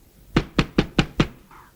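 Five sharp knocks on a wooden door in an old Malayalam bachelor comedy scene, evenly spaced and close, followed by a faint sound afterward.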